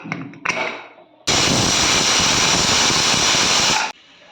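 A pressure cooker cooking mutton chops lets out one long, loud, steady hiss of escaping steam lasting about two and a half seconds, cutting off abruptly, with a few soft clanks from the kitchen just before.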